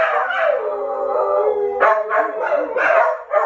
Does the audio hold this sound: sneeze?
no